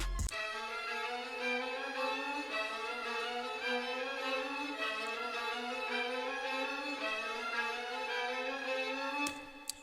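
Several violins layered together playing slow, winding chromatic lines, a dense sustained string texture that holds steady before cutting off.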